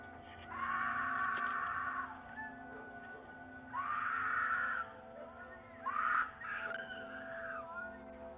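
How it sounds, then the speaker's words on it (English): A woman screams for help outside a house, captured by a Ring doorbell camera: three long, thin, distant cries with pauses between, heard through a tinny mic over a constant background hum. "A woman can be heard screaming for help while her neighbor stands on her doorstep wondering what's going on."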